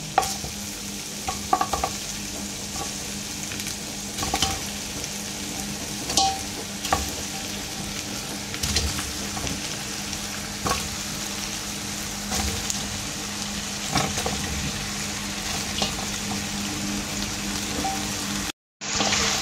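Pork feet frying with translucent onions in a pan for Visayan-style humba adobo: a dense, continuous sizzle and crackle with scattered stirring clicks and scrapes, ending in a brief cut of silence before the sizzle resumes.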